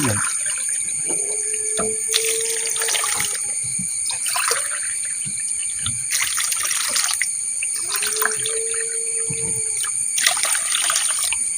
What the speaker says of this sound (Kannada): ಈಗ ನಾನು ಅದಕ್ಕೆ ಒಂದು ಮೂರು ಗ್ಲಾಸ್ ನೀರು ಹಾಕಿ